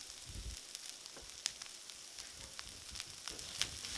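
Corn sizzles quietly in a hot pan with squash, a soft continuous crackle dotted with small pops and the occasional light scrape of stirring.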